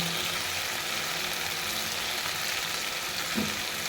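Chicken leg pieces hit hot oil with fried spices such as cardamom and cinnamon, giving a steady, loud, broadband sizzle that holds without a break throughout.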